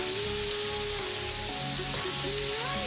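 Lamb chops fry in hot oil on a stove set to medium-high, a dense and constant sizzle. A faint voice can be heard under it in places.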